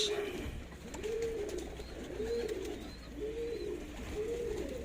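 Plosur racing pigeons in a loft coo in a slow, regular rhythm, about five soft rolling coos spaced roughly a second apart, fairly faint against quiet surroundings.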